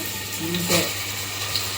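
Ginger and garlic sizzle in a hot pan while a chickpea curry is started, a steady frying hiss running under a person's voice, with a brief louder burst of sizzling partway through.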